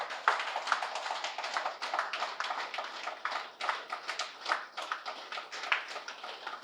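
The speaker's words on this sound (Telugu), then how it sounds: "ఒకసారి గట్టిగా క్లాప్స్." Steady clapping from a group of people, a dense run of hand claps that keeps going for several seconds at moderate loudness.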